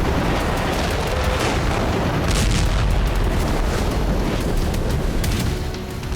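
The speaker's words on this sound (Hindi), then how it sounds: "थमने नहीं वाली है ये गोलाबारी।" Artillery shelling in Gaza rolls on as a dense, continuous roar of booms and blasts, loud and sustained with no clear gaps.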